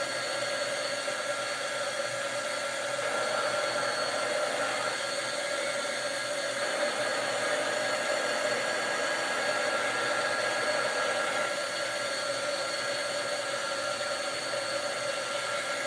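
A heat tool blows hot air steadily across pool noodle foam, a constant airy whir like a hair dryer that holds at an even level throughout with no talking.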